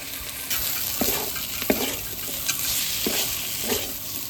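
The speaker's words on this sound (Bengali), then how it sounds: "এখন এই কুণ্ডুলিটা দিয়ে একটু কষিয়ে নিই আমি" Kunduli vegetable sautéing in a pan with a little sugar, a steady sizzle broken by several scraping stirs of a spatula, close and moderately loud.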